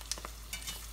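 Eggs fry in a Field Company cast iron skillet with a soft sizzle, broken by a few brief scraping and stirring touches, close by and fairly quiet.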